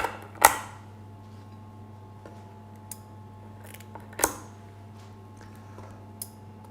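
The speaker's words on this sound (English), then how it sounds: "I'm just going to take some scissors and remove its fins" Kitchen scissors snip the fins off a whole trout before filleting, giving a few sharp, isolated close cuts spaced a few seconds apart over a low steady background hum.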